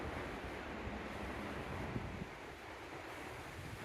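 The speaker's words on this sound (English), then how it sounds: "This is the Calapooya River." The Calapooya River flows outdoors as a steady broadband rush of water, fairly faint and continuous, with a little wind buffeting the microphone and no speech.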